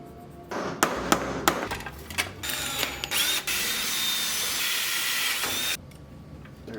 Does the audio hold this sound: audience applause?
no